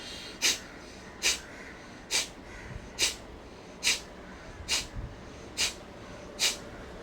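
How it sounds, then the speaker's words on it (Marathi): Eight sharp, forceful nasal exhalations in a breathing exercise for a common cold come at a steady rhythm, each a brief breathy burst with quiet pauses in between. "आणि परत उच्छ्वास जोरात सोडायचा आहे"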